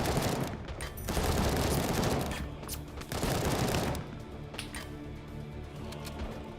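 Sustained automatic gunfire in a shooter video game, loud and dense with bursts swelling and easing across the whole stretch, no voices.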